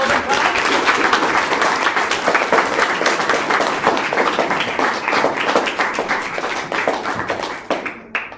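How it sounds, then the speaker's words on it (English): A room full of people at a Year 6 school leavers presentation at a primary school claps for a pupil, a sustained, loud, dense round of applause that tapers off near the end. "Let's give him a round of applause."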